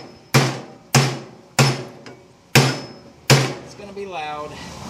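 A hammer pounds a vacuum motor apart for scrap copper, five loud metallic blows at a steady pace about every two-thirds of a second, close up, each ringing briefly before the next.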